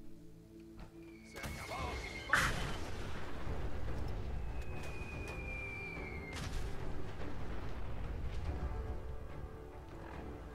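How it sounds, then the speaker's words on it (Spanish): Gunfire in the video game Fallout 4, with a sharp loud shot followed by booming, rumbling effects and game ambience, and a second shot-like burst a few seconds later. "Que le he pegado dos tiros y le ha subido la vida."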